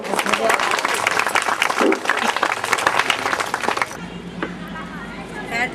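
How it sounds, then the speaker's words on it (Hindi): An audience claps at a school prize ceremony, loud dense applause that stops abruptly partway through, after which someone talks over faint room noise. "जोर से ताली बजाएंगे सब लोग।"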